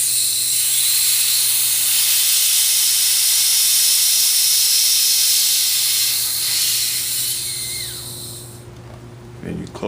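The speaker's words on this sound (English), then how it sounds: "we're going to purge out the hose by opening up the purge valve" Oxygen rushes out of a filling hose through an opened purge valve, a loud, close, continuous hiss lasting several seconds before cutting off abruptly near the end.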